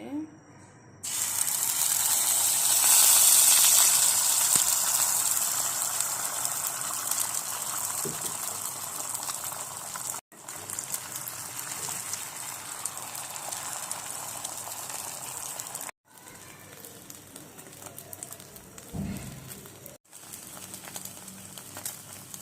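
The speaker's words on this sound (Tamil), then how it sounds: "இந்த நெத்திலி பொரிச்ச எண்ணெய் இருக்குது இல்லைங்களா, ஸோ அதுலேயே தான் நான் இப்போ ஏக்கியம் பொரிக்க போகிறேன்" Beaten egg poured into a hot pan of oil already used to fry anchovies, giving a loud, steady bright sizzle that eases slightly over time, broken by a few brief gaps and soft utensil clatter.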